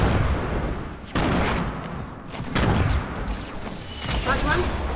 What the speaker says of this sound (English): I'm throwing nades.